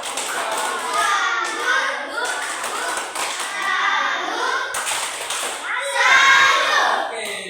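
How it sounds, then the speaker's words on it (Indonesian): Schoolchildren in a primary classroom clap through the rhythmic tepuk salut routine, bursts of patterned group clapping in repeated phrases with young voices chanting along, the final round the loudest. "Oke, tepuk tangan. Tepuk salut, tepuk salut"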